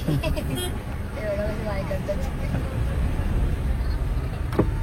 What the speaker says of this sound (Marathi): आणि आता आम्ही ट्रॅफिक मध्ये फसलो आहोत